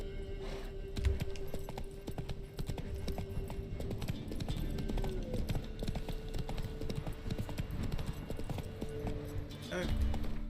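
Roach the horse galloping in The Witcher 3, a fast, steady clip-clop of hooves running throughout, with a voice talking over it and a brief whinny-like sound near the end.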